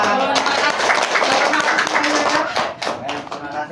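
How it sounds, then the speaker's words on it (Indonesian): An audience at an Islamic teaching event claps in a dense, steady burst of applause lasting several seconds before thinning out near the end. "Tepuk tangan."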